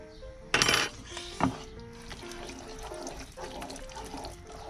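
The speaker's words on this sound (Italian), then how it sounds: "Mettiamo un altro goccetto di acqua." Water poured into a cooking pan while making gnocchi, with a sharp sizzling splash and clinks of cookware near the start, then softer bubbling and clatter fading underneath.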